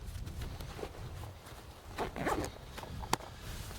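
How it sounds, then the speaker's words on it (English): A day pack compartment being zipped shut on a three-day hiking pack, giving a few quick scratchy zipper pulls with soft rustling of the fabric, close and fairly quiet, without any talking. "So go ahead and zip that up."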